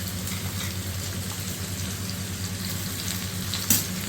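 Bottle gourd pieces fry in a pan for coconut chutney, giving a steady, even sizzle with a low hum underneath and one brief clink near the end.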